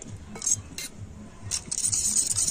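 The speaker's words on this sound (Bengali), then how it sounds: "তো জল দিয়ে সমস্ত মশলা আমি ভালো করে গুলে নিচ্ছি।" Spices being stirred into water in a bowl for a chickpea dal, a spoon clinking against the bowl in several short, fairly close strikes between softer swishing, with no voices.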